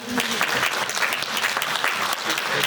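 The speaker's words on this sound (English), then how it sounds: "That's a very loud golf clap, by the way" Audience golf-clap applause for a panel at a future-of-work conference, a dense, fairly loud patter of many hands that runs the whole time with some murmur mixed in.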